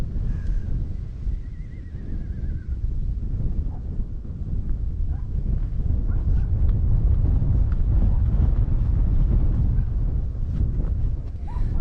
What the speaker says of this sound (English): The wind is strong enough to push me around today